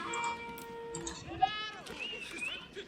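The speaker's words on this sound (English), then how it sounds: "he's got the rest of the sheep" Sheep bleating in the video game Age of Empires 4 during a ranked Mongol versus Malian match on a prairie map, several short bleats mixed with game tones and effects, moderately quiet.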